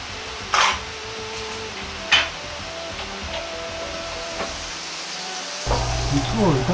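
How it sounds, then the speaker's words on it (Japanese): Garlic, ginger and vegetables sizzle steadily in meat fat in a hot pan, with a couple of sharp clinks of a utensil and a louder sizzle near the end. "肉を炒めて出てきた油を使い野菜を炒めていきます"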